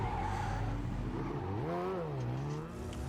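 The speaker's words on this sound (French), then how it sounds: "Même là, le petit bruit du V8 là." V8 car engine in the racing game Need For Speed Heat, revving and rising in pitch with a swooping whine as it accelerates, steady and fairly close, with faint tire noise and no talk.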